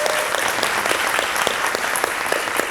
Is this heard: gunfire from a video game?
no